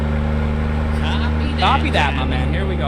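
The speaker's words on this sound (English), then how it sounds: "But I feel like this engine is way too loud." A car engine drones loudly and steadily throughout while driving, with someone talking over it close by.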